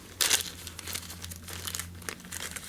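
A clump of ice wing gray synthetic fly tying dubbing material being pulled apart by hand: a sharp crinkling tear at the start, then softer rustling and crackling up close.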